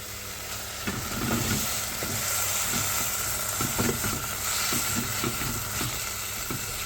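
Vegetables with red chili stir-fried in a pan for a vegetable rice roll, a continuous sizzle broken by repeated spatula scrapes and taps as everything is tossed together, close and fairly loud with no talking.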